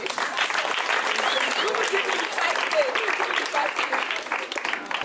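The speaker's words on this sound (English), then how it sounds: "So you guys are clapping for me." Audience clapping for a speaker at a Pad the Girl Child campaign event, a dense, steady wash of many hands lasting throughout, with voices faintly mixed in.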